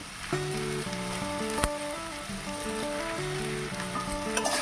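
Fish curry spices with turmeric and chili powder sizzle loudly in a hot pan for parshe fish jhol, a dense steady frying hiss with one sharp utensil knock as they are stirred.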